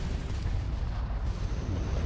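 Heavy, continuous booming weapon fire from a Crimson Fleet ship during ship combat in Starfield, a dense low rumble filling the whole moment with no pauses.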